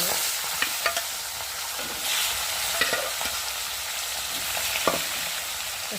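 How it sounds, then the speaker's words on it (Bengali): Mrigal fish frying in plenty of oil in a wok, a loud continuous sizzle with occasional spatula scrapes and stirs, close up and without talk. "ওই মাছগুলোকে দিয়ে ভালো করে ভেজে নিই"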